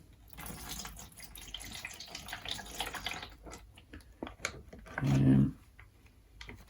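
Liquid trickles and drips into the tank of a Karcher SE 4001 wet and dry vacuum cleaner, quiet and close, with a brief louder gurgling splash near the end.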